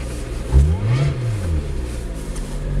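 Lotus Exige sports car accelerating on a snowy track, its engine revving loud and close in bursts, with pitch climbing and dipping through gear changes.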